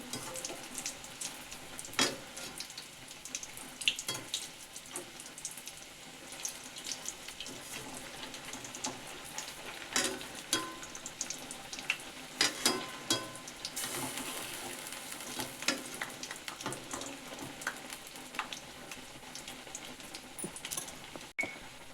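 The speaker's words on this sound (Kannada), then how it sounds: "ಹೀಗೆ ಬ್ರೌನ್ ಕಲರ್ ಬರೋವರೆಗೂ ಕರಿತಾ ಇರಬೇಕು" Mysore bonda made from semolina batter deep-frying in hot oil until brown, with a continuous soft bubbling sizzle and scattered crackles, heard close but fairly quiet and steady throughout.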